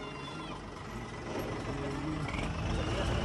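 Tractor engines revving hard in a tug-of-war pull between a Ford 3620 and a John Deere, a loud, rough, sustained drone that builds steadily, with voices shouting in the background.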